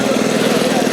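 A new motorcycle's engine idles in a steady, even putter, close and fairly loud, with no break for the full second.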